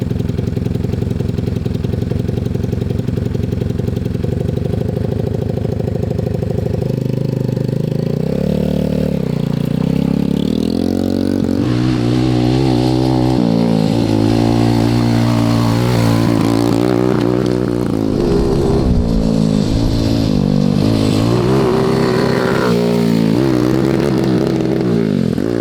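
A 190cc shifter kart engine runs steadily and close, then revs repeatedly in rising and falling bursts, its buzzing mid-pitched note swelling and dropping throughout with no talk over it.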